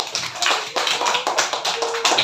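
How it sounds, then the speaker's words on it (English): A classroom of fourth-grade pupils claps for a classmate in a social studies lesson, a brief burst of many hands patting together unevenly, close and moderately loud for about two seconds. "Clap for Priyansh."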